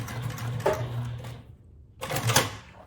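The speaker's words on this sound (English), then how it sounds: "Now back stitch." A sewing machine back stitching fabric for a hobo bag, a close, fast mechanical whirr in two bursts separated by a brief pause.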